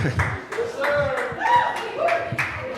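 A comedy club audience claps for a few seconds after a stand-up joke, with scattered hand claps, a few whoops and loud sustained laughter mixed in.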